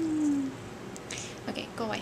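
A house cat meows a few times indoors beside a Christmas tree, soft and fairly close, mixed in with someone talking over it.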